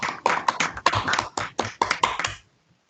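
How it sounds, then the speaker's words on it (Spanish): Scattered claps from an online audience after a lecture on a water utility's disaster risk management plan: about nine sharp, separate hand claps in an uneven rhythm, fairly close and dry, then silence. "le damos un gran aplauso por su intervención hoy."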